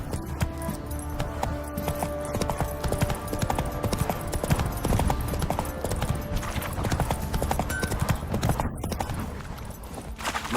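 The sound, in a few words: Roach the horse trotting in The Witcher 3 video game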